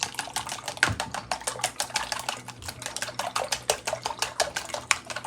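Chopsticks whisk beaten eggs with black pepper in a bowl, rapid rhythmic clicking and tapping against the side, close and steady, with a few louder knocks and no talk.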